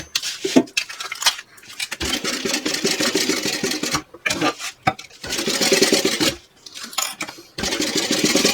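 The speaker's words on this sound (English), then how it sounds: "I'm going to sew down and then down, okay, at a 3/8 of an inch seam allowance" A sewing machine stitching a seam on a bag, loud close bursts of rapid mechanical whirring that stop and restart several times, separated by short pauses and light handling clicks.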